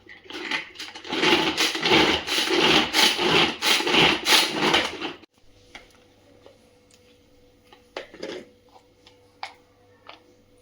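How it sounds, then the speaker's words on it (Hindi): Onion, six green chilies and garlic cloves whirring and rattling in a kitchen chopper, a loud continuous grinding burst for about five seconds that stops abruptly, followed by faint clicks and taps. "इसे चॉपर में चॉप कर लेंगे।"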